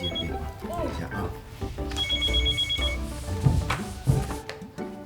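A telephone rings indoors at home with a bright electronic trill over a couple of seconds, while people talk and move nearby.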